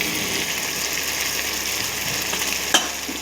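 Garam masala, coriander powder and chilli powder sizzle steadily in hot oil, a dense, even crackle with a single brief clink from stirring near the end.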